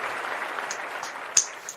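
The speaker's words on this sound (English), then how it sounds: "Let me give Ryan some applause here, man." A small studio audience gives a short round of applause for a guest on a sports talk show, a soft, even patter of clapping lasting under two seconds.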